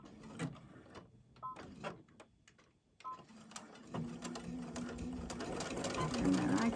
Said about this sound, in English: And then put it on a straight stitch and back it up.